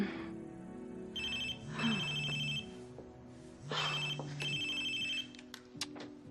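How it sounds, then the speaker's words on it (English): A mobile phone rings with an incoming call, repeating a melodic ringtone in several bursts over a few seconds at moderate volume indoors, with no one speaking. "Damn, that was Alex, but my battery just died."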